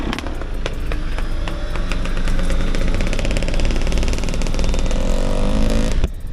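Dirt bikes ride past on a road trip, their engines a loud, close, steady buzzing roar that holds throughout before cutting off abruptly near the end, with no talking.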